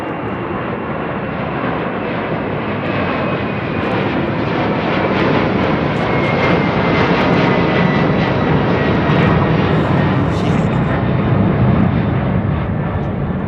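A blended-winglet airliner climbs out overhead from London Heathrow, its engine roar loud and continuous throughout, swelling slightly as it passes near with no voices.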